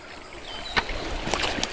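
A small stream in the countryside near a château flows with a soft, steady trickle and gurgle, with a few brief splashes, close by and with no talking.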